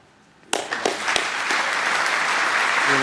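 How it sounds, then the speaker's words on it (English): At a cricket awards night, an audience bursts into applause after a moment of quiet. The clapping quickly builds into a dense, sustained ovation filling the room. "give him a big round of applause"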